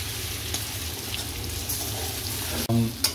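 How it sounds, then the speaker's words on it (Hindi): Crushed red chili frying in a pan with potatoes for a quick aloo dish, giving a steady, close, moderately loud sizzle with a brief louder burst of stirring or clatter near the end. "थोड़ा सा हम भूनेंगे कि ये कुटी हुई लाल मिर्च जो भून जाए।"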